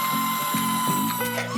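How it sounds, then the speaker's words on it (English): A drill bites into a thin metal tin can with a wooden block inside, giving a close, grinding whine with rhythmic chattering pulses. "I drill holes on this Diya design."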